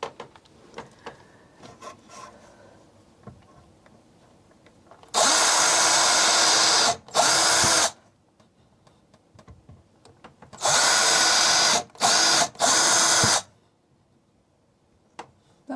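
A power drill bores into wood in several loud bursts, two long runs followed by shorter ones, separated by quiet pauses and faint rustling.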